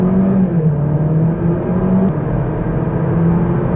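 A 1.6 Turbo Opel Astra pulling hard from standstill toward 100 km/h, the engine a loud steady drone heard from inside as the revs climb, with a brief gear-change dip midway.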